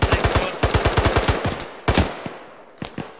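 Loud close gunfire in the military video game Arma 3: a rapid burst of evenly spaced shots, a pause, another burst, then a couple of heavier single reports trailing off.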